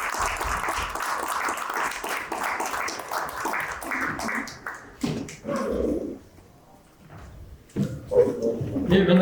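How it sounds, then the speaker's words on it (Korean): A lecture audience breaks into dense, sustained clapping that thins and fades out, followed by a few scattered claps as the room settles. "우리 박수로 함께해 주시면"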